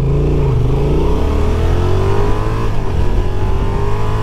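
A 2024 Honda XL750 Transalp motorcycle accelerates hard from a standstill, its engine note rising steadily through the gears with quick-shifter changes, loud and close throughout.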